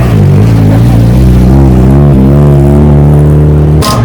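Audi Sport Quattro S1 rally car engine at a night stage of the Rallye Alsace, a loud, close, continuous roar with rising and falling revs, ending in a sharp burst.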